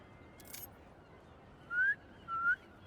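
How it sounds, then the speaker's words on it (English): Two short rising whistles in the video game Marvel's Spider-Man, clear and fairly loud over a quiet background hiss, following a brief rustle near the start. "Try a whistle."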